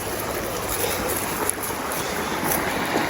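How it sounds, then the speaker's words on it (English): Rushing water from a waterfall on a dog walk in Canada where a Rottweiler plays in the water, a loud, steady broadband roar with a faint splash, no voices. "There he goes in the waterfall."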